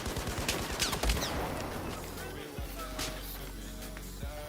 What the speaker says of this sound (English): Why was that flashbang like 5 hours long?